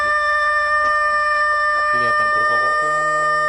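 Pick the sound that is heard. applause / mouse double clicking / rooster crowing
rooster crowing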